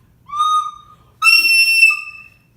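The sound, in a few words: recorder playing a high pitch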